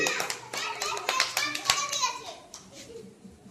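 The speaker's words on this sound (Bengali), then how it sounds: "হাততালি।" Preschool children clapping their hands in a classroom, a burst of quick, uneven claps in the first couple of seconds mixed with children's chatter and an adult voice.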